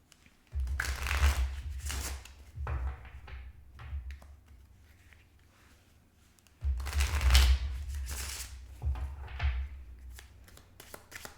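Tarot cards are shuffled close up in two bursts of riffling and slapping, each a few seconds long, with a quiet pause between them. No voice is heard.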